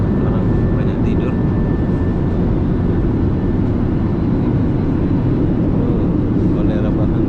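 Steady, loud low-frequency roar of an airliner cabin in flight between Batam and Pontianak, a constant engine and airflow drone with a faint tonal hum and some faint talk underneath.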